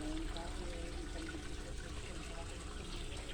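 Tap water runs into an African catfish tank during a water change, a steady continuous trickle and gush close by, with a constant low hum underneath.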